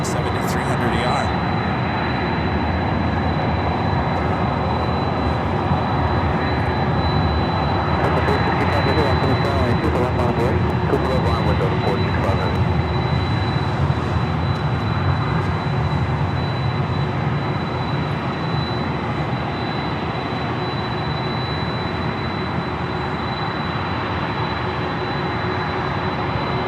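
A 27-year-old Delta Boeing 767-300ER on the runway at Los Angeles International Airport produces a steady, loud, broadband jet engine roar that holds level throughout, a continuous wash of noise rather than distinct events.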